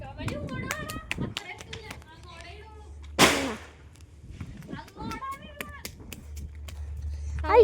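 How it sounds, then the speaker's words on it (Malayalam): A single firecracker bursts with one sharp, loud bang at a festive Vishu celebration, while people, including children, talk and call out before and after it. "അങ്ങനെ എൻ്റെ അമ്മ പടക്കം പൊട്ടിക്കാൻ പോകുന്നു"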